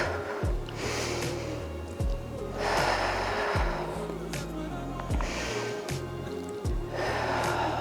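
Deep breaths drawn and released through the nose during a kneeling oblique stretch, a series of close snorting inhales and exhales repeating every second or so over a steady low background.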